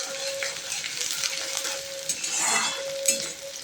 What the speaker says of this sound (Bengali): গরম হয়ে গেলে এর মধ্যে আমি দিয়ে দেব কুচি করে রাখা পেঁয়াজ, পেঁয়াজগুলো বেশ লাল লাল করে ভেজে নেব।